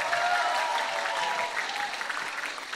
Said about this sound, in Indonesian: Mas Abi, mana tepuk tangannya?